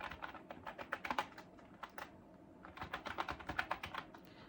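An email address is typed on a computer keyboard, with quiet, close key clicks in two irregular bursts separated by a short pause.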